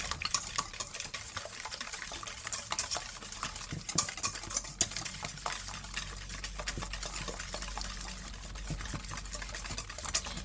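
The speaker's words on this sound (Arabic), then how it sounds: "غادي نخلطوا المكونات كلها ينسجموا مع بعضهم." Quiet stirring and whisking of crepe batter in a bowl, soft irregular taps and wet swishing strokes repeating close by, with no one speaking.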